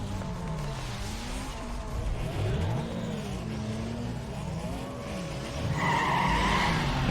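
Race cars rev and pull away at the start of a race in the game Need for Speed Underground 2, engines rising and falling in pitch, with tire squeal and a louder surge near the end.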